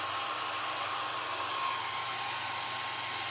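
A hair dryer blows steadily and loudly at close range while drying a recycled vegetable can, a constant broadband whoosh with a faint motor whine and no talking.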